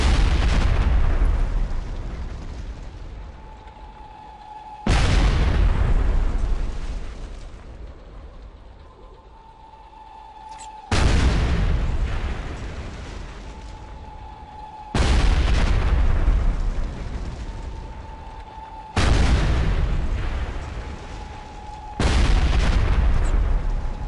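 Mortar rounds strike in Ghost Recon Advanced Warfighter 2, a series of about six heavy booming explosions spaced a few seconds apart, each a sharp blast trailing into a long rumbling decay, loud and without speech.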